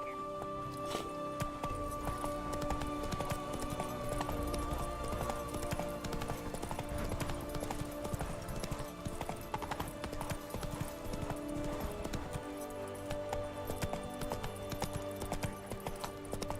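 The horse Roach gallops in The Witcher 3: Wild Hunt. Steady, rhythmic hoofbeats run throughout, under in-game music and occasional voices.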